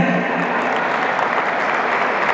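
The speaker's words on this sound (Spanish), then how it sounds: "Un aplauso fuerte" Steady, dense applause from an audience at a Teachers' Day celebration for school teachers, a continuous wash of many hands clapping at an even, fairly loud level.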